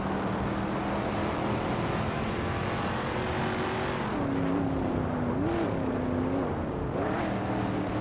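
Race cars drive in a racing video game, a steady close engine drone with a sustained whining tone that rises and dips as the cars weave through corners, continuous and fairly loud throughout.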